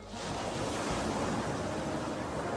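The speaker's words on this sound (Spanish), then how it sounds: "Las olas continuaban rompiendo" Ocean waves break on a beach in a continuous, full roar of surf that rises in the first moment and then holds steady, with no voices.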